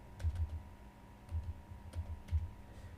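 Keystrokes on a computer keyboard during a WordPress site reset, a few short clustered bursts of soft clicks with pauses between them, fairly close and quiet, no voices.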